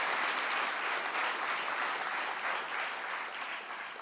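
Applause from a crowd at a patriotic Independence Day poetry gathering, a continuous wash of many clapping hands at moderate distance, holding steady and tapering slightly at the end.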